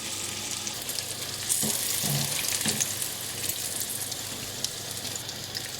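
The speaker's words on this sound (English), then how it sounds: "cook the other side for around 30 seconds and then remove the fritters" Courgette and chilli fritters, Bangladeshi-style boras, sizzle steadily in hot oil, a dense close crackle with a few soft stirring knocks and clinks partway through; no voices.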